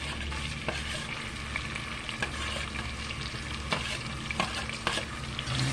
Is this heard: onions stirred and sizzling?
yes